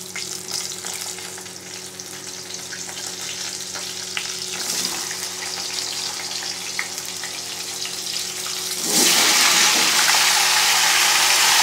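Potatoes and taro frying in a pan for a simple fish curry, a steady close sizzle with stirring scrapes, growing louder and brighter near the end as more moisture hits the hot oil.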